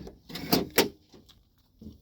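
The tailgate of a 2023 Honda Ridgeline swings open sideways like a door, giving a couple of quick mechanical clunks and latch clicks close by, then a faint rattle.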